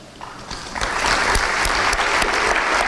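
An audience at a community volunteer awards ceremony breaks into applause, starting thin with scattered claps and swelling within a second into full, steady clapping from a roomful of people.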